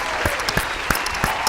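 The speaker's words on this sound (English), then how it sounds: "let's get a round of applause for Ajax" Clapping patters on in a steady, moderately loud wash for a moment, sharper individual claps poking out every few tenths of a second, given as a round of applause for the Ajax football club.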